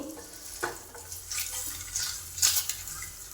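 Eggs fry in masala for a Hyderabadi-style egg kurma with a constant close sizzle. A spoon stirs and clinks against the pot several times, and no one talks.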